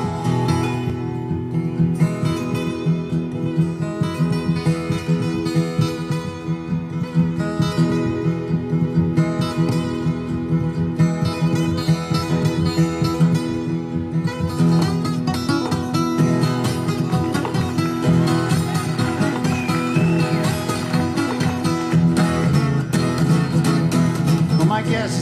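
Musical imitation of a lonesome train whistle, sustained harmonica-like or guitar tones rising into a fuller band texture, steady and loud throughout with no words spoken.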